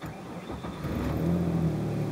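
A car engine with a no-heat problem pulls away and rises in pitch as it accelerates on a drive to warm it up, a steady close drone with no talk.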